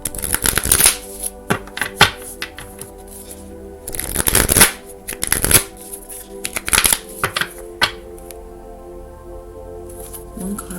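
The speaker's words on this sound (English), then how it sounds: "This deck is kind of hard to shuffle too, because it's fairly new." A fairly new, stiff deck of oracle cards is shuffled in repeated bursts of riffling and flicking, close by with short quiet gaps between.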